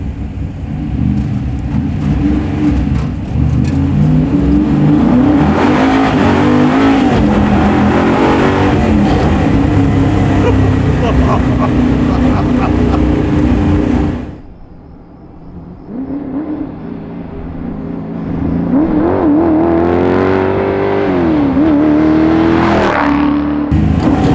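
A 700HP big-block 1964 Ford Galaxie rumbles loudly as it drives and revs, first in a sustained heavy drone, then briefly quieting before climbing again through sharp rising revs.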